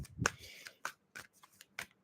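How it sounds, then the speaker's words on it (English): Tarot cards being shuffled by hand give a few soft, crisp riffling slaps and brushes at an uneven rhythm, close and quiet, with no talk. "And you all can see me shuffling here."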